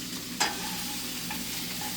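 Onions frying in an oiled pan, a steady close sizzle with a brief stirring scrape near the start and small crackles popping through the hiss.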